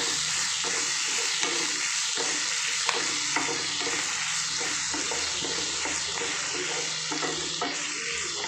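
Chopped tomatoes fry in a pan for egg curry, a steady loud sizzle running throughout, with a spatula stirring and scraping at a loose, repeated rhythm, no voices.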